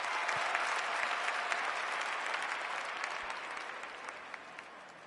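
A crowd at an Australian rules football match applauds steadily throughout, a dense wash of clapping that slowly fades, with no clear voices on top.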